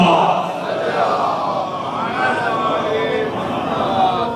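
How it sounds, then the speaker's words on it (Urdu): An audience at an Ahlebait poetry gathering celebrating Shaban loudly chants salawat in unison, a sustained, swelling roar of many voices that fills the hall without pause. "ایک بار بلند آواز میں نعرے صلوات پڑھیے"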